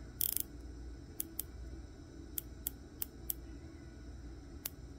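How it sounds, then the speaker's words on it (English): A Kraken watch with an NH38 movement has its 120-click bezel turned to the left, giving about eight crisp, quiet clicks at uneven intervals over a low background hiss. "it is a 120 click bezel to the left. So once you click, you have to click yourself back around"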